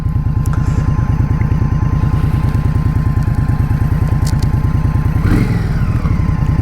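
A 2023 Indian Scout Rogue motorcycle ridden on the road around Albuquerque, its engine loud and close with a steady, throbbing pulse throughout.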